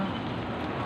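Rain falls steadily on a street, a dense even hiss that fills the whole moment without any break.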